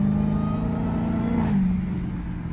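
A straight-piped Dodge Hellcat engine drones loud and close with a deep steady rumble, briefly rising in a short rev before settling back, with no talking.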